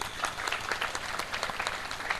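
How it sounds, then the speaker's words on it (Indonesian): An audience at a school partnership signing ceremony with a motorcycle company claps in steady, moderately loud applause, a crowd of hands blending into a continuous patter for a couple of seconds. "Boleh tepuk tangan untuk itu."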